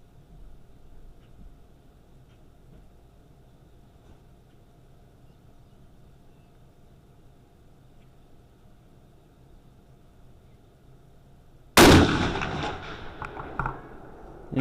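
A single sharp 6.5 Creedmoor rifle shot cracks loudly near the end after a quiet outdoor lull, followed by a brief echoing tail.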